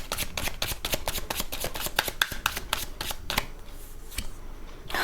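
Tarot cards being shuffled and handled during a love reading, giving a quick run of crisp, close riffling snaps that thin out toward the end, with no talking.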